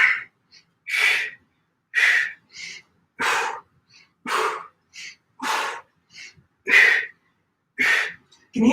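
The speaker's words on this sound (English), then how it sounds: "Can you hear my breathing?" Heavy, forceful breaths during a strength-focused yoga workout, about nine sharp exhale-like bursts in a steady rhythm, each roughly a second apart with short silences between, close and fairly loud, with no talking.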